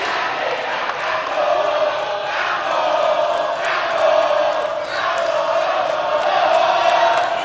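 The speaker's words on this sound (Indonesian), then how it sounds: "Boleh tepuk tangannya dari pendukung paslon nomor 1." Supporters of candidate pair number 1 at a Central Java gubernatorial debate clap and cheer, a loud, sustained crowd roar filling the hall.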